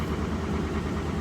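A used auction car's engine idles with a faint rattle, a steady low rumble heard close and alone.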